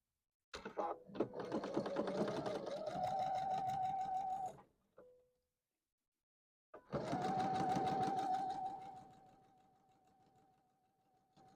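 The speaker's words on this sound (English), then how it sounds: "I'm going to sew the opposite side." A sewing machine stitches a quilt block in two loud, steady runs with a high whirring hum, separated by a short pause of near silence, then winding down to a faint drone at the end.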